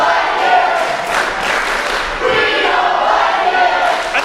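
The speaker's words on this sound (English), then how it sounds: "the crowd here letting Sonny Defarge know that they do not like him" A wrestling crowd at an ETWA holiday show jeers and shouts at a disliked wrestler, a loud, dense mass of voices with scattered claps and a brief thud, sustained throughout.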